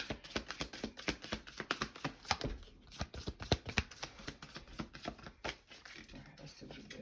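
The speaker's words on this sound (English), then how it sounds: "I'm going to throw out a couple of purpose cards out here." Oracle cards shuffled by hand in quick riffling bursts of soft papery flicks and taps, close and fairly quiet, running steadily throughout.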